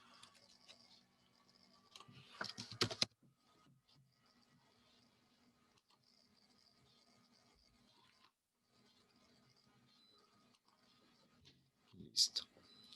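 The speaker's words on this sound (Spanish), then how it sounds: "Voy a poner mi teclado." Computer keyboard typing, faint scattered clicks with a brief louder burst of rapid keystrokes early on and another near the end, over a quiet room hum.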